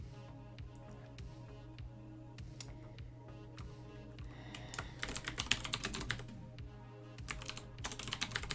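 Fast computer keyboard typing, close and clicky, taps away in bursts of keystrokes that grow busier and louder toward the end, with no talk.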